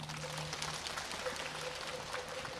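Audience applause at the 2024 Busan International Buddhist Expo dharma talk, a steady, fairly faint wash of clapping from a seated crowd that lasts the whole moment.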